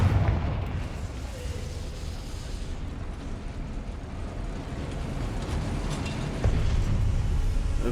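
Confringo blasting spell explosion in the video game Hogwarts Legacy, a deep rumbling burst that lingers as a dense low roar, followed by a second heavier thump near the end.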